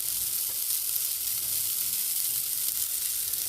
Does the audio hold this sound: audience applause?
no